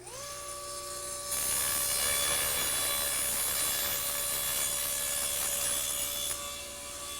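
A table saw cuts a wide, long board guided by a jig. The blade's steady whine rises as it bites into the wood and holds as a sustained, loud cutting tone, then drops back to a lighter spin near the end.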